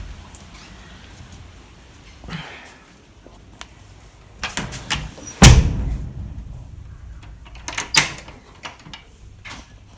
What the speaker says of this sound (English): I'm about to shut the front door and put the aircon on.